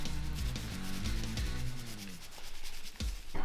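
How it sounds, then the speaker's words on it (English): Dry rub worked by hand onto pork ribs, a soft continuous rubbing and scraping with a few brief taps, close and quiet, with no talking. "let's go ahead and apply the rub on the other side of our ribs"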